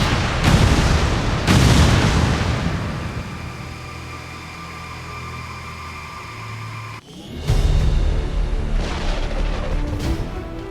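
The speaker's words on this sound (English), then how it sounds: "Detonating charges." Planted charges detonate in XCOM War of the Chosen as loud, deep booming blasts roll out in bursts, fading into a sustained rumble before a sharp renewed blast near the end, with no talking.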